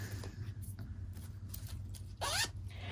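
A pink zipper on a fabric pouch is pulled in a quick rasping run near the end, preceded by soft handling rustles and faint taps close by.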